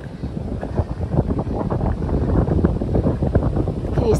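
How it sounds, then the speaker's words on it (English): Strong wind buffets the microphone on a mountain trail during an Appalachian Trail thru-hike, a steady loud roar with gusty surges that never lets up. "The wind is really picking up."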